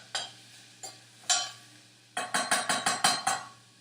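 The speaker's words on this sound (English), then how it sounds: "It doesn't take very long at all to just saute them a little bit." Beans being sautéed in a pot: a few scattered scraping stirs followed by a quick run of about seven rhythmic stirring scrapes with light sizzle, close and moderately loud, no talk.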